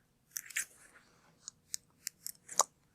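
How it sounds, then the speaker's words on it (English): Scissors trim excess cake lace from an isomalt Victorian fan cake decoration, giving a series of crisp, close snips spaced unevenly across a quiet background. "These are nice straight lines, so I'm just going to use the scissors."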